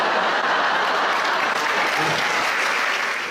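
A comedy improv audience applauds in a dense, even burst of clapping that holds steady for a few seconds, loud and close, with no talk over it.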